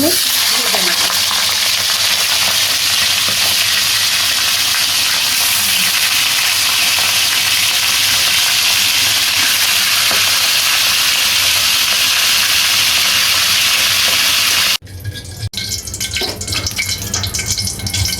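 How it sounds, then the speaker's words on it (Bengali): Pieces of marinated meat roast fry in hot oil in a wok, giving a loud, steady hiss and crackle that holds throughout, with a brief rattling stir near the end. "আমি কড়াইতে তেল দিয়ে দিয়েছি তেলটা গরম হয়ে গেছে এখন রোস্টগুলো"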